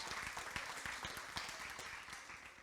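Steady audience applause, a dense patter of many hands clapping continuously at moderate loudness throughout.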